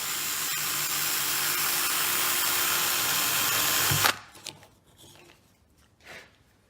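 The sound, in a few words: battery drill drilling into WoodUBend material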